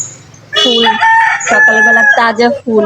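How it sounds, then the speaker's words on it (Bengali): A rooster crows close by on a bright morning in a home garden with adenium plants, a loud, long, strained call in several drawn-out phrases while a person talks over it. "আশপাশে মোরগ ডাকতেছে"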